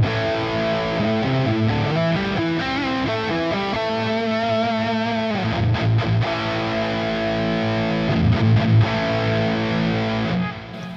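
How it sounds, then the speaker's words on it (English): An electric guitar plays chords and riffs through classic rock distortion with a light bass boost around the low end, a full, loud, steady tone ringing continuously with no talking. "classic rock distortion, add depth to your sound with a light boost at 100 hertz"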